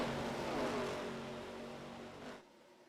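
A NASCAR race car in the iRacing video game slowing onto pit road at Chicagoland, its engine droning loudly and sliding down in pitch before cutting off abruptly.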